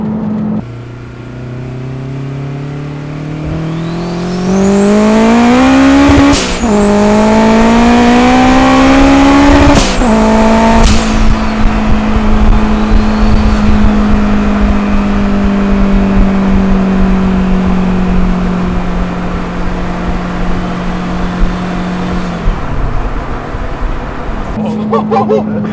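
A turbocharged Honda Civic with a bonnet-exit wastegate accelerates hard and loud, its engine note climbing through the gears with sharp shrieking wastegate bursts between shifts, then holds a steady drone as it cruises on.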